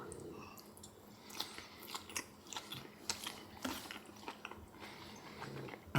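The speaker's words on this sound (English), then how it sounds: "Let's try these green beans." Close-up chewing of cooked green beans, a string of soft, moist crunches and bites at an irregular pace over a quiet room background, with no talking.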